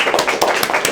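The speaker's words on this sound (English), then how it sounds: "Big round of applause." Short burst of audience clapping at a live mind-and-body talk, a few hands patting in a loose, uneven rhythm, close and fairly loud, with no talk over it.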